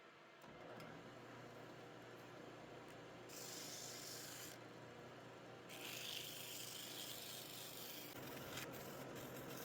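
Continuous abrasive rubbing and rasping hums steadily, intensifying into harsher, brighter grinding in bursts, as size 8 wooden rings are sanded while spinning on a drill.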